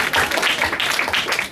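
Comedy club audience at Flappers applauding a stand-up comedian, a short, dense patch of clapping heard up close.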